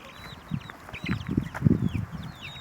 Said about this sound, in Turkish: 20 tane tavuğum var ama anne olarak da yatanlar da var, civcivlerim var.